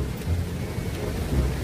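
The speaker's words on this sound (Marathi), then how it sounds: "पाऊस चालू झालेला आहे" Rain beginning to fall at Thoseghar waterfall gives a short, steady wash of broadband noise with a low, rumbling undertone.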